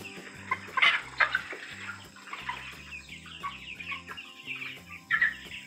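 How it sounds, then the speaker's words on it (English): Soft, high peeping from young pullets, scattered chirps over a low, rhythmic mechanical hum. "Can you hear the sound of baby chickens?"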